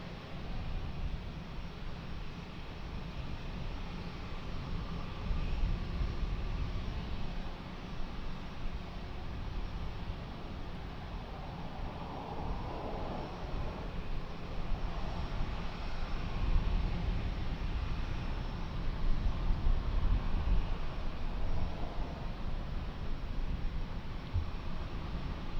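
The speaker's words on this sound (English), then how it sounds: "So on final, a beautiful Piaggio. A Piaggio Avanti. Very small one." A small Piaggio Avanti aircraft on final approach at Lisbon Airport produces a steady broadband engine roar that swells slightly as it passes, heard from a distance over constant airport noise.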